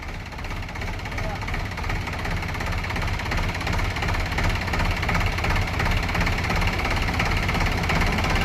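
A Mahindra 265 tractor engine idles with a steady, rough mechanical drone close by, continuous throughout with little change in loudness, and faint voices may be mixed in underneath.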